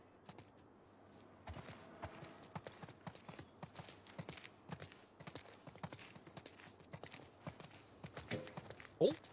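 Hooves of horses clip-clopping at a walk in the video game The Last of Us Part 2, a soft, steady irregular patter under quiet ambience with no talking.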